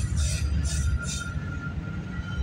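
Low rumble of a Union Pacific freight train rolling past at night near West Toronto, steady and moderately distant, with a few brief hissing bursts early on and a faint sustained tone.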